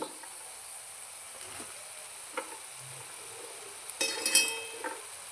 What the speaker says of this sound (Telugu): ఇప్పుడు చిక్కుడుకాయలు వేసుకుందామండి.